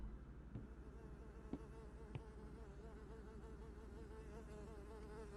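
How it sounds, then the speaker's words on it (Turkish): Flies and bugs buzz steadily throughout a horror video game scene, a dense insect drone layered over a low ambient hum, with a few faint knocks. "Her yerde sinek, böcek bir şeyler."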